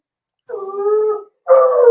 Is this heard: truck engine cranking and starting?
no